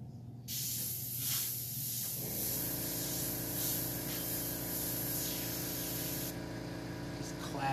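An airbrush sprays paint across a license plate in a street art class, giving a steady close hiss that runs almost continuously with a low mechanical hum beneath it.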